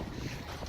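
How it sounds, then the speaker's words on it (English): Wind blowing outdoors at a canyon, a brief low rumble of gusts buffeting the microphone, fairly faint. "it's a little bit windy."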